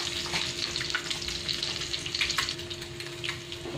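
Mudfish frying in hot oil, a steady crackling sizzle with scattered pops throughout, close and fairly loud, no one speaking.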